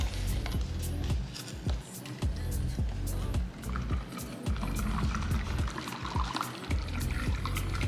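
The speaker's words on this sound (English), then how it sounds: "I have this funnel just to make it like a little easier to pour in here." Fresh juice pours through a funnel into a container during kitchen meal prep, a continuous splashing, gurgling flow with small knocks and squelches throughout.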